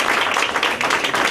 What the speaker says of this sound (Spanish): un gran aplauso a todos